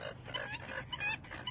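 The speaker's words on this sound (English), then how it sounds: "You hear the ducks." Ducks at a lake chattering in a busy, continuous overlapping flock, moderately close, with no voices over them.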